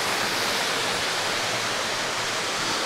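Olginsky waterfalls and river in eastern Abkhazia, a dense, steady roar of falling and rushing water that fills the whole clip close up, with no voices.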